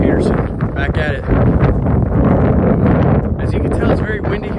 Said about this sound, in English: As you can tell, it's very windy here today